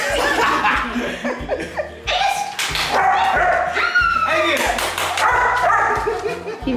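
A pet puppy barks, yips and whimpers excitedly at close range while people laugh and chatter around it.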